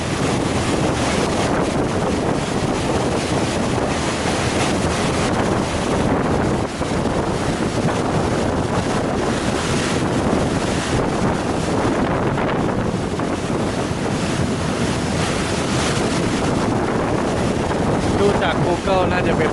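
Ride aboard a Chao Phraya express boat in Bangkok, with a steady loud roar of engine, rushing wind buffeting the microphone and water washing against the hull, continuous and close throughout.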